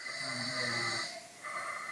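A person asleep snores in slow, rasping breaths, one long loud inhalation followed by a quieter pause and the start of another, heard close with no talking.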